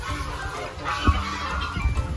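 Chickens cluck softly amid a busy outdoor background hum, with no talking.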